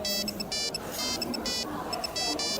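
An old cellphone rings with a bright, electronic ringtone in repeated short beeping bursts, loud and close over a steady noisy background, with no voices.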